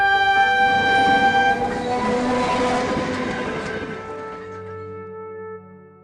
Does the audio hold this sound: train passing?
yes